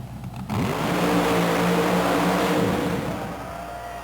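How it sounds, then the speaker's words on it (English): USHRA monster trucks roar at a mud racing shootout, their engines revving hard with rising and falling pitch. The sound is loud and close after a brief quieter start and is not masked by any talk. "we're ready to go with the mud racing shootout here on Super Trax"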